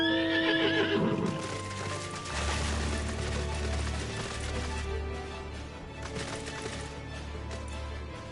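A horse mount in Final Fantasy XIV whinnies loudly, followed by clip-clopping hooves and mechanical clicking, with a synthetic, game-like quality and no speech.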